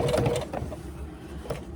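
A sewing machine stitches down piping on a laptop bag, a brief close burst of rapid mechanical whirring and clatter that quickly tapers, followed by a lighter click of the mechanism.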